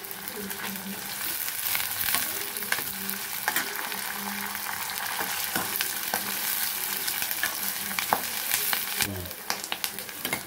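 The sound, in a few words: frying curry leaves and spices in oil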